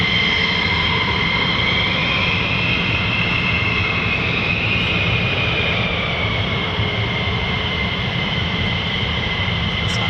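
F-15E Strike Eagle jets taking off at an RAF base, a loud, steady jet roar that continues unbroken throughout.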